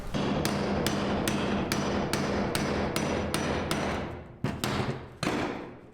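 Hammer blows knocking out a part during bed removal on a C10 truck build, about ten sharp metallic strikes in a steady rhythm, then two spaced final hits, loud and close with no talk.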